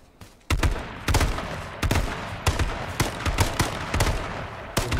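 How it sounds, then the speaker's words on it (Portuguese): A burst of gunfire in the video game H1Z1, then a run of sharp shots at irregular intervals, loud and close, with a faint background murmur between them. "Foi um tiro."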